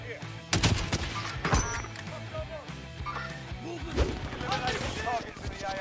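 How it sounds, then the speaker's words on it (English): Shotgun blasts in the video game Warzone, a few sharp booms near the start among layered gunfire and game effects, with a player talking excitedly over the action. "Oh, shotgun."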